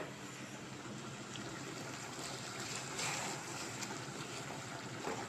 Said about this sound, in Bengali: আলু কেটে নিয়েছি, আলু দিয়ে কষাবো।